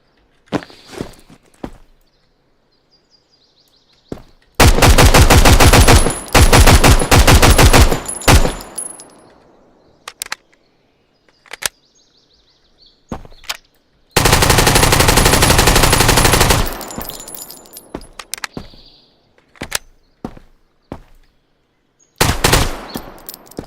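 An AK rifle in the video game Road to Vostok fires two long sustained bursts of automatic gunfire, loud and close. Scattered footsteps, thunks and single clicks fill the quieter gaps between the bursts.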